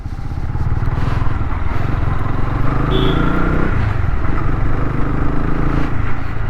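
A 2022 Honda CB300R motorcycle cruises in third gear at low city speed, its engine a steady close drone under wind and road noise.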